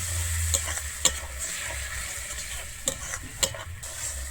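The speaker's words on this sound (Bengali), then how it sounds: "টমেটো বাটাটাকে দিয়ে আমি আবারও ভালোভাবে এখানে কষিয়ে নেব" Tomato paste sizzles as it is sautéed in a pan for a vegetarian jackfruit and potato dalna, a steady frying hiss with a few sharp utensil scrapes and taps.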